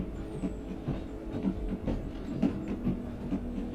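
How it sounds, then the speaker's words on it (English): In the game Foundry, a moving train gives a continuous low rumble with regular clacking beats as wheels cross the rails, steady and mid-level, heard alone without talk. "We'll go for a train ride."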